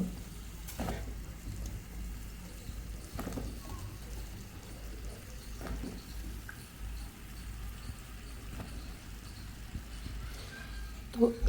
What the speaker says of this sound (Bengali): এখন হলো লাউটা দিয়ে দিব হ্যাঁ এই লাউটা একটু কষাই নিব মানে ওকে একটু ভাজা ভাজা করে নিব